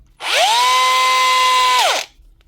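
A Bosch cordless angle grinder, reported as low on power and smelling, spins up, holds a steady high whine for under two seconds, then winds down, close and loud.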